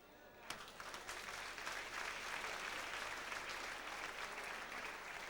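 Audience applause fills a carnival sitting evening in Horst in 1994, a dense steady clapping from a large crowd that swells in after a sharp start and holds loud throughout.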